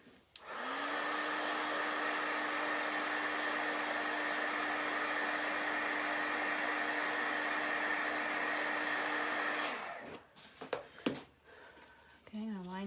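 A hair dryer blows on wet chalk paste, a loud steady whirring roar for about ten seconds that then cuts off, followed by faint handling noises.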